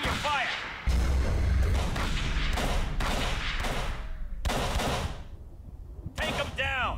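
Gunfire and heavy thuds in the video game Call of Cthulhu: Dark Corners of the Earth, dense bursts of shooting and booms rising and falling in waves, with shouting voices over the battle.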